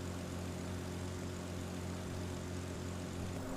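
Yak 18P propeller plane in Microsoft Flight Simulator, its engine giving a steady, continuous low drone that holds evenly throughout with no talk over it.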